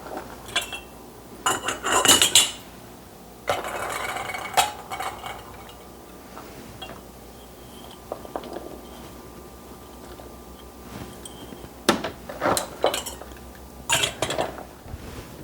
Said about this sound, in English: So now we're just going to fill our half-pint jars here.